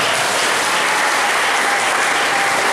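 A church congregation applauds at a Lunar New Year Mass, a dense, loud, sustained wash of many hands clapping together that fills the space evenly without pause.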